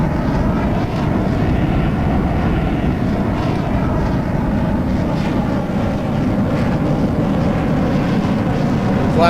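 Steady, loud jet engine roar of a Lockheed F-104 Starfighter in a flight video game, a constant broadband drone holding level through the whole stretch with no voices over it.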